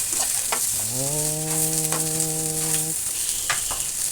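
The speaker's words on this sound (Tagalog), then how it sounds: "Haluin lang, haluin." Squash being stirred in a cooking pot for crab in coconut milk, giving a steady soft sizzle and scraping. A short voiced exclamation rises over it midway.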